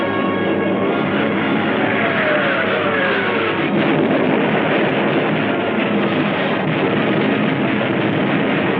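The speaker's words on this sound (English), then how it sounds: "All the available German night bombers were put into the air." German night bombers fly overhead in a loud, dense, unbroken engine roar that drones steadily with no pauses.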